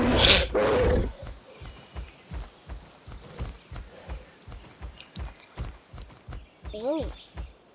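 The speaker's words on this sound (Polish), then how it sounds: "ja już słyszę raptory" Video game creature roars and a burst of noise open the clip, then steady heavy thumping footfalls, with a few squealing chirping raptor calls near the end.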